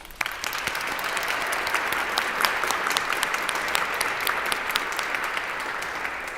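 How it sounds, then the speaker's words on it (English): A room full of people claps steadily, a dense sustained round of applause after one sharp first clap. "Please show your assent by joining me in a round of applause."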